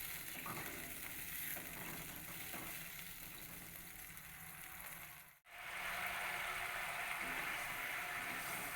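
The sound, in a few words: masala paneer gravy simmering and bubbling in pan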